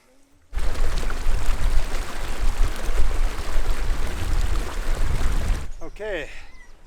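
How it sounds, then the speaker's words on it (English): A big waterfall at the upper lake in Kings Canyon National Park, a loud, steady broadband roar filling the scene from near start to finish, ending abruptly before faint chirping sounds. "Got a big waterfall behind us here."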